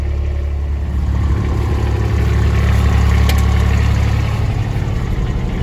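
A Kubota RTV 1100C utility vehicle fitted with a Boss V-plow idles steadily, its engine giving a continuous low rumble and vibration close by, with no voices.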